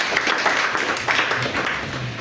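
A church congregation breaks into brief applause and clapping, a loud wash of many hands filling the room for a couple of seconds.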